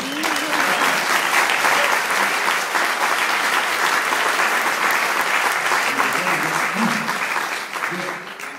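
A large audience applauds steadily at a public appearance by Dick Van Dyke in Union Square, dense continuous clapping and crowd noise filling the space before tapering off near the end.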